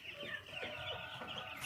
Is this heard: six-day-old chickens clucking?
yes